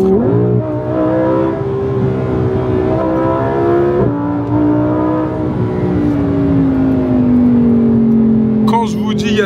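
A Lamborghini cruising on an Italian motorway, with a steady close engine drone and tyre roar that shifts pitch as the car changes speed, plus a brief gear-change dip and a short rattle near the end.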